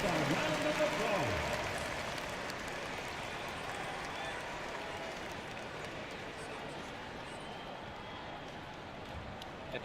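Crowd applause and arena noise in the NBA 2K25 basketball video game, a steady wash of cheering and clapping that starts a little louder and settles into a continuous mid-level roar with faint voices in the mix.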